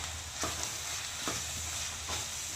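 Spices such as red chilli powder, turmeric and coriander being stirred in a hot pan, a continuous close sizzle broken by a few soft scraping strokes.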